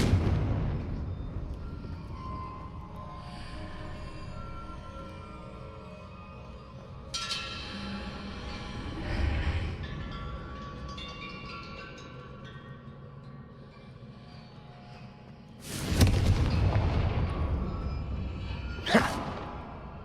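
Spell blasts from the fire-blast magic in the game Hogwarts Legacy: two sharp, loud bursts near the end stand out over a steady background game soundtrack, with a softer swell midway.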